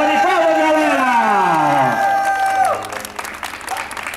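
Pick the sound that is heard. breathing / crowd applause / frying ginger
crowd applause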